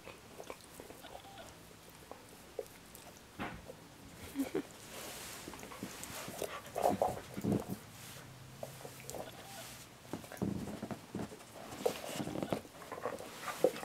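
A dog gnaws and plays with a chew toy, giving scattered close crunching and clicking bites between quieter stretches, with a person talking over parts of it.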